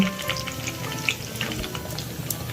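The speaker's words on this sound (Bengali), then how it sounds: "পেঁয়াজ দেওয়ার পরে কিছুটা কিছুক্ষণ নাড়ার পরে তারপরে দেওয়া হবে চিকেন" Onions for chicken curry fry in a pan with a soft, continuous sizzle and faint scraping as they are stirred, heard up close with no speech.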